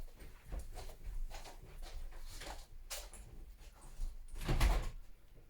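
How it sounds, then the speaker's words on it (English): Knocking at a house door: a few separate raps spread over several seconds, with the loudest, heaviest knock near the end, heard over quiet indoor room noise. "Oh, there's somebody knocking at the door."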